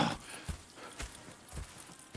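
Horse hooves clip-clopping at a slow walk in the Red Dead Redemption 2 PC game, a steady series of soft, evenly spaced thuds at moderate distance with no voices over them.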